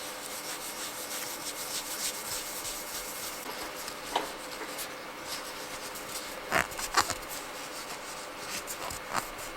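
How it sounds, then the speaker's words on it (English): Autosol metal polish rubbed by hand onto a scratched Corgi Porsche model car, a steady soft scrubbing hiss with occasional small clicks and taps, close and fairly quiet. "using Auto Sol metal polish to get rid of the scratches"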